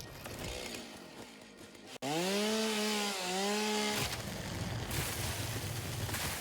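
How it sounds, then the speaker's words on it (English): A chainsaw revs and cuts through piping in an oil refinery video game, a loud buzzing whine rising at about two seconds, dipping and climbing in pitch, then settling into a steady rasp. "Where's my chainsaw?"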